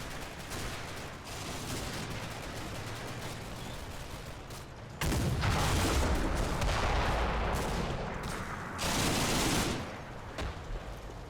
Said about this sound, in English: there's the Greyhound taking pot shots on the roll